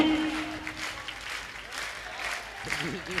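An audience at a Jain monk's spiritual discourse in Indore claps for a few seconds in a steady, moderate ripple of applause, with a voice speaking briefly over it.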